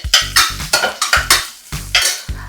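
Onion and green chilli are stirred in a frying pan, a quick rhythmic series of about ten scraping strokes against the pan over a faint sizzle, close and alone.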